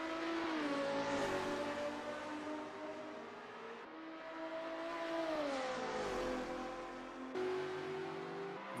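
BMW race car in an SRA 2025 Group C Championship race, engine note rising and falling steadily as it revs hard through corners, loud and close with continuous tone shifts.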